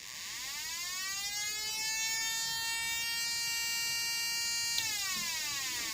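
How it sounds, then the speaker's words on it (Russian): A homemade two-transistor air raid siren circuit wails with a loud electronic tone that sweeps upward and holds at a high pitch, then drops sharply near the end, with no other sounds. "При нажатии нарастающий идет сигнал."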